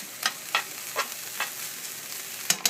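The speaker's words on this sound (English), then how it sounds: "Going to just stir everything up together and let it saute and whatnot." Ground turkey sautés in a pan under a soft sizzle, and a spoon scrapes through it in about five evenly spaced strokes, with one sharper clack at the end.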